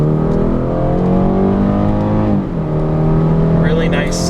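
A 2018 BMW 430i xDrive hardtop convertible's turbocharged engine accelerates, a loud, steady rising drone from inside the car, briefly dipping during a gear change before pulling on.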